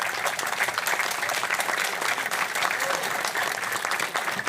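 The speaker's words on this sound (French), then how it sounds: "je crois qu'on peut l'applaudir très fort" A studio audience on a French television talk show applauds loudly and continuously, a dense wash of many hands clapping at once without pause, steady in level throughout.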